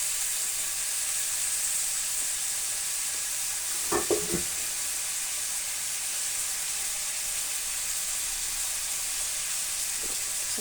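Chayote tops stirred in a hot pan, a constant loud sizzle and steam hiss with a brief cluster of utensil scrapes partway through and another faint knock near the end, no talking.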